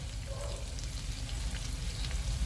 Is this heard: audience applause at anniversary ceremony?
no